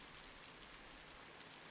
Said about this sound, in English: Yo, it is pouring still.